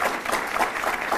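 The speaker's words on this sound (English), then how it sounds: "Let's give them a round of applause for their work." An audience applauds construction trades workers at an airport transformation project announcement in Rochester, giving a short burst of steady, dense clapping from a crowd close by.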